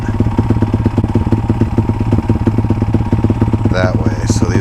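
A motorcycle engine idles steadily while warming up after months unridden, a close, loud, even thrumming pulse with a faint clatter, and a brief rise near the end.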